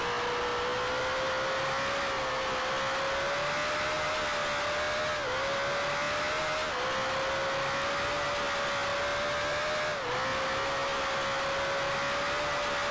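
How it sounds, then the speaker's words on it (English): A 1965 Formula One car engine in the Grand Prix Legends sim at Lakeside Park holds a loud, steady high whine, broken by several quick gear shifts that briefly dip the pitch before it climbs again. "Lots of quick shifting."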